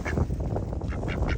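A duck at a lake quacks loudly and close by in a rapid series of nasal calls, with several quacks in just over a second, alone with no talking.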